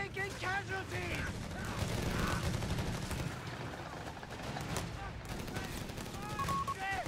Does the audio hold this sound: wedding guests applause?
no